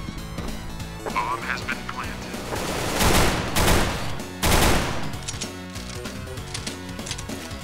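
In CS:GO, a decoy grenade fakes gunfire with a few bursts of sharp, rapid cracking shots amid clattering game sounds and background noise, moderately loud.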